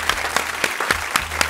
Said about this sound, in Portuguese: salva de palmas para a Rose